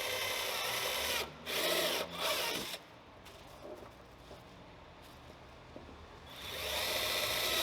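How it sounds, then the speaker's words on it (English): A power drill whirs loudly in two short bursts into a BMW F10 535i M Sport front lip, then stops; after a quieter stretch of faint handling noise, a steady high whine starts up again. "Same thing, we're gonna drill these two in the center."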